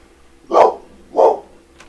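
Letty, a pet dog, barks twice indoors, two loud, close woofs spaced about half a second apart.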